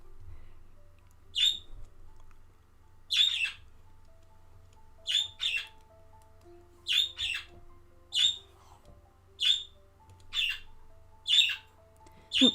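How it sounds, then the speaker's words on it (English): Two pet budgerigars, small Australian parakeets, give sharp squawks and chirps in a regular run of about nine close, loud bursts spaced a second or two apart, with a low hum underneath and no talking. "So I have two budgies, aka budgerigers. They're a little Australian parakeet."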